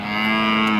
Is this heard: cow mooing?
yes